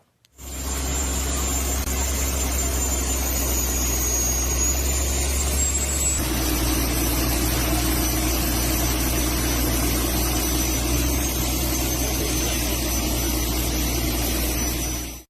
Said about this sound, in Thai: นี่ครับคุณผู้ชมครับเครื่องสูบน้ำ 15 นิ้ว